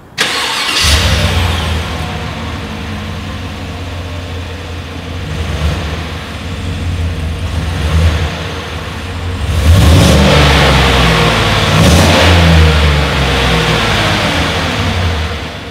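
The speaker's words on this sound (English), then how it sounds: "here is that exhaust clip" A 2020 Chevrolet Tahoe SUV engine cranks and starts, settles into an idle, then revs loudly several times, the exhaust roaring up close before easing back.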